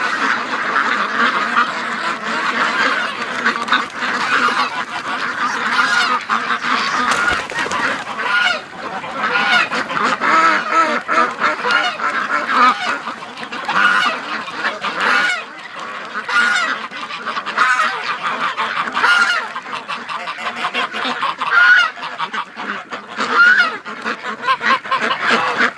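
A flock of geese honking continuously, loud and close, with overlapping calls and some quacks from ducks throughout.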